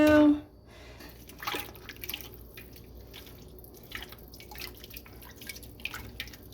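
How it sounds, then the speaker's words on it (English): Chicken pieces are poured into a pot of broth, producing soft scattered splashes and drips after a brief loud knock at the start, fairly close and intermittent. "we will be pouring all this chicken in here."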